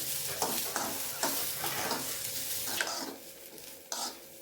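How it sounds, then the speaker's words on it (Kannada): Vegetables sizzle and crackle in hot oil while a spoon scrapes and stirs in bursts every half second or so, close and fairly loud. "ಇವುಗಳನ್ನ ಸ್ವಲ್ಪ ಎಣ್ಣೆಯನ್ನು ಹಾಕಿ ಹುರ್ಕೋಬೇಕು"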